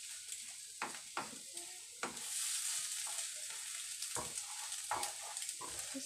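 Crab stick and scrambled egg fry in a pan with a soft, steady sizzle, broken by several spatula taps and scrapes against the pan, faint and close with no voices.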